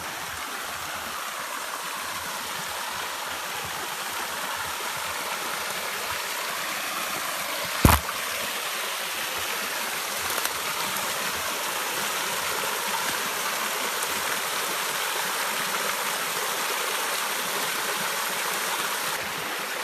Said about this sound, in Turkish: aslında bir de şu taraftan da akıyor böyle su